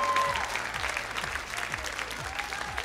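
An audience at a televised X-Factor final gala concert applauds, dense steady clapping from a large crowd that fills the whole stretch without pause.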